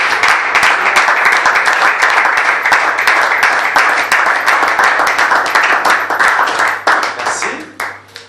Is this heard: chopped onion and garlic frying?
no